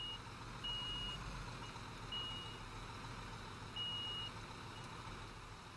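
Truck reversing alarm in Construction Simulator 2015, beeping steadily while the truck parks, with a low engine rumble underneath; three clear beeps stand out in a regular rhythm.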